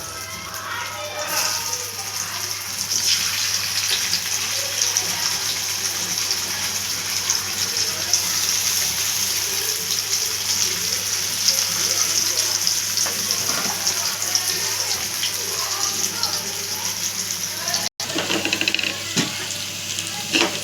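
Pieces of elephant foot yam fry in oil in a pan, a continuous bubbling sizzle with occasional stirring, briefly cut off near the end.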